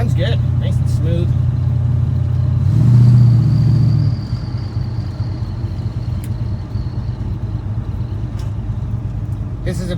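A Chevy C10 pickup's engine with a lumpy camshaft idles and rumbles on a snowy test drive, a loud low burble that swells briefly before settling back to a steady loping idle.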